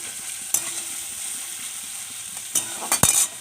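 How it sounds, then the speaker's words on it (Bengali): Prawns fry in hot oil in a kadai for a jackfruit and prawn curry, a steady close sizzle with a few sharp clinks and stirring scrapes toward the end. "ওরা ছেড়ে দিলাম তেলের মধ্যে চিংড়ি মাছ"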